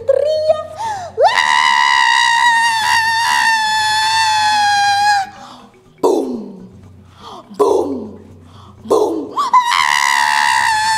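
A frightened child screams loudly and alone in long, sustained, piercing wails, with several shorter, falling cries in between, set during a scary fairy-tale scene involving the monster Rangda.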